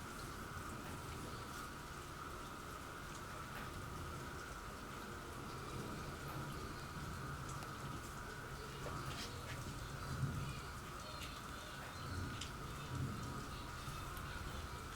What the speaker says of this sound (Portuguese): Não sei se vocês conseguem escutar o barulhinho de chuva aqui, porque aqui chove, chove, chove, não tá parando mais